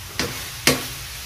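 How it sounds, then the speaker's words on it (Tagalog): Batchoy ingredients are sautéed in a frying pan, giving two short scraping stirs over a steady low sizzle, close and fairly quiet, with no talking. "Gisa pa rin, gisa-gisa."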